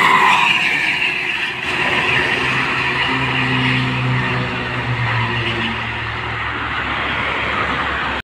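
An ANS intercity bus from West Sumatra cruises along the Merak-Jakarta toll road, its engine and tyre roar loud and steady with a droning hum as it passes amid traffic.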